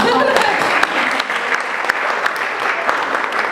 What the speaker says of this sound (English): let's give her a clap, shall we?